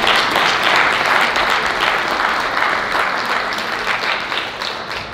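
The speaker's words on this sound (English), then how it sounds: "give the board one more round of applause for all of their incredible work" A large crowd at a Mother Language Day celebration applauds continuously, dense clapping that stays strong throughout and tapers slightly toward the end.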